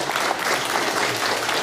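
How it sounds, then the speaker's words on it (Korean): A brief burst of audience applause follows a Korean history lecture, a steady, even patter of many hands clapping in a hall, with no voices heard. "박수 한 번 더 주십시오"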